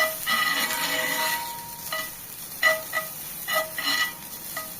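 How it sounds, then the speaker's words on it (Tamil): Grated coconut roasts in a dry pan for coriander chutney, with a soft hissing sizzle and intermittent scraping strokes of a spoon stirring it, close and fairly quiet, no voices. "இப்போ வந்து தேங்காய் நல்லா வறுபட்டுருச்சு"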